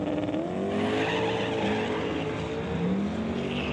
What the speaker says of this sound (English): McGraw spins the tires, throws the belt